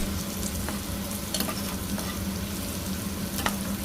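Onions sprinkled with turmeric fry and sizzle in a pan for a mutton curry, with close, steady crackling and the scrape of stirring against the pan throughout.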